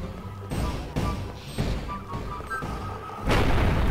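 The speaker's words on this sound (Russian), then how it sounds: "Какой-то слабый взрыв" A weak explosion in Garry's Mod, a series of dull thumping bursts and crashes in quick succession, ending in a louder, broader rush of noise.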